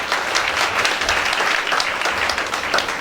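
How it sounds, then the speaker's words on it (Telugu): A congregation at a revival gospel gathering claps together in a dense, continuous burst, close and lively, with no voice over it. "చప్పట్లు కొట్టి దేవుని నామాన్ని చూపించండి."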